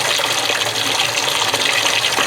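Tap water gushes steadily into a kitchen sink, a continuous loud rushing fill with no talking over it.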